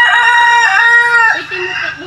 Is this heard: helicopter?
no